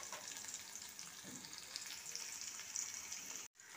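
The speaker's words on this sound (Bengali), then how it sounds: "ওই পটলের তেলেতে পেঁয়াজটা দিয়ে ভালো করে একটু লাল করে" Thinly sliced onion frying in oil left over from pointed gourd, for a potol pulao, a close, steady hiss and crackle of sizzling with faint stirring, then a brief cut near the end.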